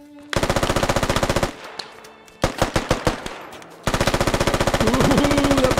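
Sustained automatic gunfire in the tactical shooter game Squad: loud, close bursts of rapid shots, a short pause with scattered single shots, then another long burst.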